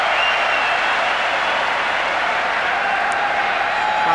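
A stadium crowd roars during a football match between Japan and Saudi Arabia, a dense, sustained wash of cheering with no breaks, loud and distant-sounding.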